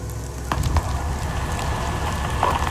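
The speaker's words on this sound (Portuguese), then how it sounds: "O farfalhar de fagulhas, infeccioso, feito uma doença." Wildfire burning in the Amazon rainforest, a steady low crackle and rumble with scattered sharp snaps of sparks, fairly close and continuous with no voices.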